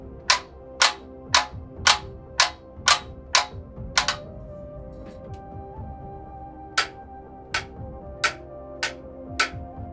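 Loud, sharp clicks from an AW Hyper Shift sim racing shifter set very stiff, about eight in quick rhythm, then a pause and several more, close and alone over a low background hum.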